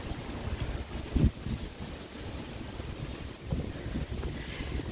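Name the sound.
wind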